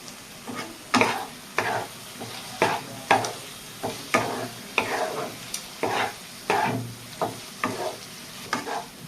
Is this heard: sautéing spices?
yes